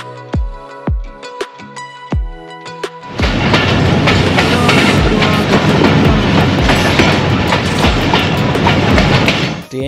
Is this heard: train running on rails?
yes